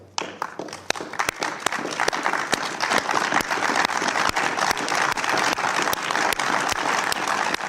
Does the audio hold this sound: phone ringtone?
no